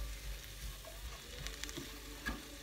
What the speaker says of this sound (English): Onions cooking and the garlic, a bit powder.